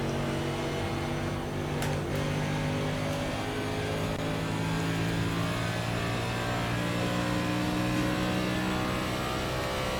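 A big pack of NASCAR stock cars in the iRacing simulator roars past at Chicagoland during esports qualifying, a steady layered engine drone with overlapping revs, loud and continuous with no talk.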